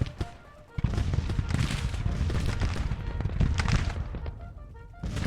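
Dense rolling gunfire and cannon blasts from a Civil War battle in the strategy game Grand Tactician, rapid overlapping volleys and booms keeping up a loud, continuous din after a brief quieter start.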